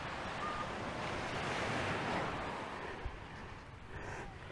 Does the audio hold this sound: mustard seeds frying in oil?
no